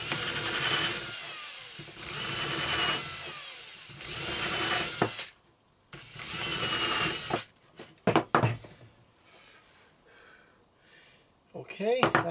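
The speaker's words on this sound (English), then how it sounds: "I listen to what the drill is doing." A power drill bores into wood for a sewing-thread rack, in several bursts of steady whirring with pauses and clunks between them.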